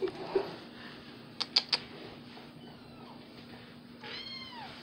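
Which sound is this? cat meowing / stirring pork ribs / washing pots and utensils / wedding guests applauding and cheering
cat meowing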